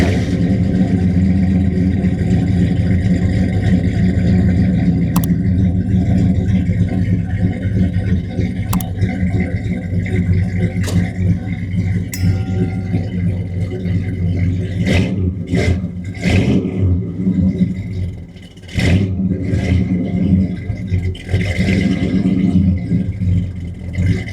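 A loud 1976 Ford Gran Torino engine rumbles and revs steadily through a dual exhaust with a rattling note, close by, for a long stretch with a few sharp clicks and surges.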